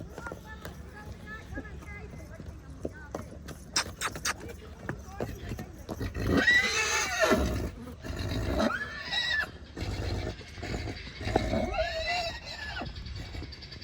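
A mare whinnies several times, with rising and falling calls over a noisy outdoor background with people talking.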